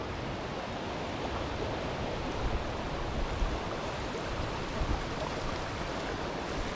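A creek flows in steady, broadband rushing water noise, constant and close with slight surges, no voices present.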